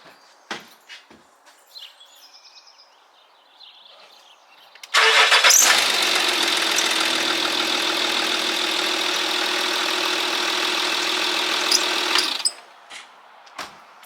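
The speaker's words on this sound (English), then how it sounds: "I'll just start the engine up so you can hear it running." A Jaguar S-Type 2.7 TD V6 diesel engine cranks and catches with a sharp start, then settles into a steady, loud idle for about seven seconds before being switched off. A few faint clicks and knocks come before and after.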